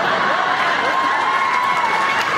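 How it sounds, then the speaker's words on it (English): Large convention-style audience cheering and applauding, a dense continuous roar of voices and clapping from a distance, steady and fairly loud throughout. "There was a big cheer there."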